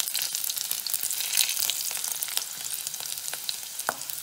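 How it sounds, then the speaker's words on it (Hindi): Garlic hits well-heated oil in a pan over a lowered flame, giving a continuous bright sizzle and crackle with small pops scattered throughout, close and fairly soft, with no voices. "ये तेल अच्छी तरह से गर्म हो चुका है और अब मैं इसमें ये लहसुन डालती हूँ"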